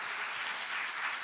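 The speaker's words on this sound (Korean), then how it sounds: "다시 한번 박수 부탁드립니다" An audience at a 2024 international arts education forum in Korea claps in a brief, dense burst of applause that stays steady and fairly close throughout.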